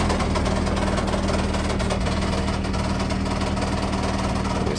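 A narrowboat engine runs steadily with a harsh, rattling knock from something loose between the gearbox, flywheel and engine, loud and close throughout with no pauses.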